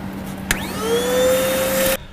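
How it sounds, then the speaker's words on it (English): A vacuum cleaner starts up with a click and quickly winds up to a loud, steady whine while sucking sawdust and drilling dust from RV cabinets, then cuts off abruptly. "I gotta vacuum up these cabinets though and get the sawdust and the drilling dust out of them"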